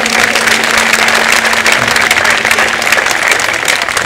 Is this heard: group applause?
yes